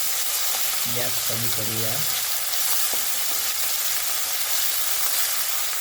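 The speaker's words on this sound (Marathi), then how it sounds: "आलं लसूण पेस्ट टाकत आहोत आपण. जळता कामा नये." Ginger-garlic paste frying in hot oil while cooking a vegetable dish: a loud, continuous sizzling hiss fills the clip, with a brief spoken remark early on.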